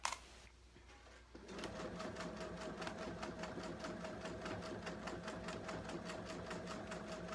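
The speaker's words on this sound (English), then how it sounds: "You want to make sure you sew through all the layers." A sewing machine stitching through the thick layers of a shark-tail blanket, starting after a brief quiet pause and then running in a steady, fast mechanical rhythm, close and continuous to the end.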